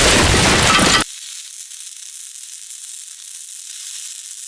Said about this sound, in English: The peace and tranquility rocked by an earth-shattering explosion.